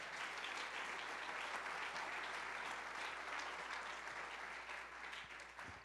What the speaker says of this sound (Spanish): Dale un aplauso al Señor en este día